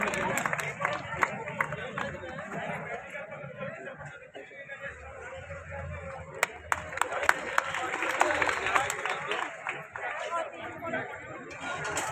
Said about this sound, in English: Please give a huge round of applause for them.